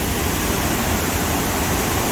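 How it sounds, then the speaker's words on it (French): Broadband, unbroken roar of a mountain waterfall pouring into the Rio Cares in the Picos de Europa, close and loud, filling the whole short stretch with no voices. "Et voilà l'arrivée de la cascade."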